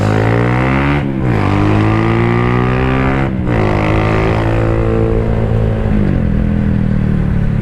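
A loud scrambler motorcycle engine roars continuously while overtaking, revving and shifting gears as it accelerates, with the pitch dropping at each shift and wind noise throughout.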